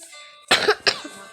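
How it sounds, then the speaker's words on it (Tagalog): A single close indoor cough, two quick harsh bursts one after another, with no talking. "Diba may ubo talaga ako?"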